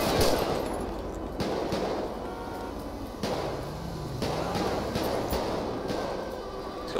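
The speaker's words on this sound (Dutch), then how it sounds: "Schoten gelost." Gunfire in a GTA 5 police mod shootout, with several sharp shots spread across the stretch amid a noisy, busy game soundscape.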